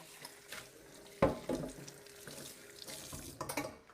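Tap water runs into a kitchen sink being filled for soapy washing, a soft irregular splashing and gurgling with a louder gush partway through, close and fairly quiet, with light kitchen clatter.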